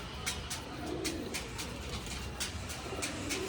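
Kolkata pigeons coo steadily in a loft, soft overlapping calls layered with chirps and rustling nearby birds, no talk.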